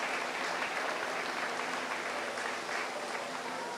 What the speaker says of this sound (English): let's give these kids a round of applause for sticking it out here all day